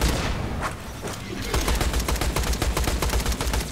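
Dense, sustained gunfire in Borderlands The Pre-Sequel, aimed at a plasma regulator: a sparse opening, then rapid continuous shots from about halfway through, loud and close, with no talking.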